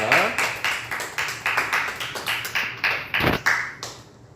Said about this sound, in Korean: 우리 하나님께 오늘 박수 올려드립니다.